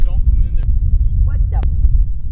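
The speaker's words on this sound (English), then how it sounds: "It's so windy up here." Low, heavy rumbling wind buffets the microphone throughout on a high bridge at a lake, with brief bits of speech poking through the roar.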